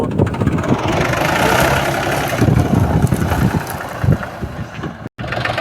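A tractor engine runs while threshing mustard, a loud, close, steady rumble with uneven mechanical knocking, broken by a brief dropout near the end.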